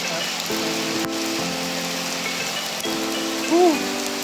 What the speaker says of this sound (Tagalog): Talagang umulan na.